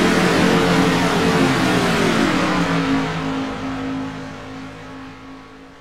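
Race cars battle for position on the Kansas track, their engines roaring loudly and close before the pitch drops as they pull away and fade.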